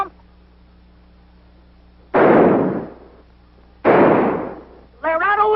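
Two loud booming gunshots from a large gun, big-bore rounds likened to marbles, crack out about two seconds apart with long decaying tails over a low steady hum, and a voice begins right after.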